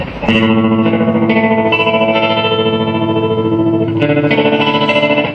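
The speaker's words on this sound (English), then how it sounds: "And if you want to make it a very thick and extreme tremolo," A Line 6 guitar modeler set to a thick, extreme tremolo throbs in a fast steady pulse, with sustained electric guitar chords chopped rhythmically and loudly throughout, close and without talk.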